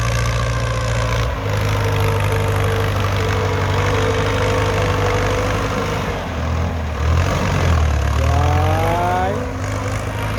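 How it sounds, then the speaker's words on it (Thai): A Ford 6600 tractor engine runs steadily at a low idle while filling a pond, then revs briefly with a rising mechanical whine before settling back into its constant rumble. "รถไถฟอร์ดเข้ามานี่"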